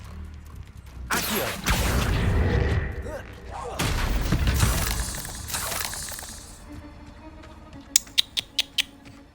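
Confringo blasting spells in the Hogwarts Legacy video game, two heavy bursts with crackling, rumbling tails a few seconds apart, followed by a quick series of sharp clicks, with a voice casting spells in the background.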